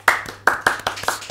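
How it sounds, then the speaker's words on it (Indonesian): A studio talk-show audience claps briefly: a short burst of sharp, separate hand claps from a small group, close and fairly loud, with no voices. "Tepuk tangan dulu semuanya."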